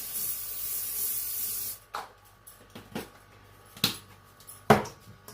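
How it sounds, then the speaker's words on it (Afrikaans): Non-stick cooking spray hisses steadily from a can into a square Pyrex baking dish for almost two seconds. A few sharp clinks and knocks of the glass dish follow, heard close up with no talking. "wat ek nou net gaan lekker spuit met Patrou spray en koek"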